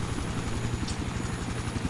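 A video game helicopter thrums with a fast, steady rotor chop, loud and close, running alone without talk.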